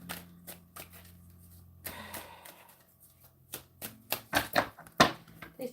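Tarot cards are riffled and tapped in a quiet room, a few soft shuffles early on, then louder, quicker bursts of card flutter toward the end, all close by with no talking.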